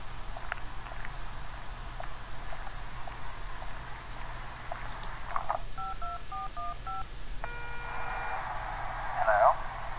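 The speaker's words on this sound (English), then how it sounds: "If you can't talk, please press any digit on your phone" Phone keypad digit tones in the game 911 Operator beep as a short run of evenly spaced presses, then a longer tone, over faint background hum, footsteps and a voice speaking.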